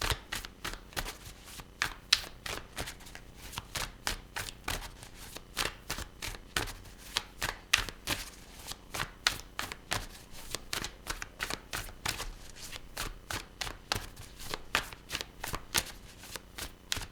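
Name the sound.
shuffling tarot cards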